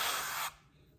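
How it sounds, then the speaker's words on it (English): Cooking oil sprayed from a can into a silicone muffin pan, one close hissing burst lasting about half a second before stopping, followed by faint handling noise. "I want to spray it. Even though it's silicone, I still want to give it a little squirt"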